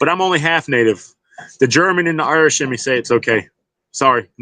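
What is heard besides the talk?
No everyday noises stand out.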